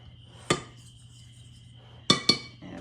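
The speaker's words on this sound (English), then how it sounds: "I'm just gonna use my granny fork here just to kind of mix the dry stuff together" A fork scrapes and clinks against a mixing bowl while blending dry scone ingredients, with one sharp clink followed later by two more close together, near and fairly quiet over a low steady hum.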